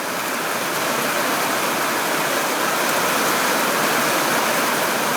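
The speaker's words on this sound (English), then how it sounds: "I've never seen the water get like this. Look at that. It's like a freaking river at the moment." Floodwater from a storm rushes through a flooded backyard, a loud, steady, broadband roar of churning water with no letup and no talking.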